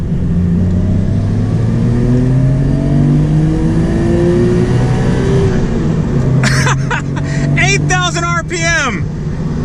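A Nissan Skyline GT-R R32 engine revs hard from inside the car, the note climbing steadily toward redline, then rising and falling in sharp sweeps near the end.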